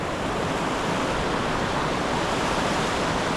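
A river rushing through Ferguson Canyon, a steady, dense roar of flowing water that stays constant throughout with no voices.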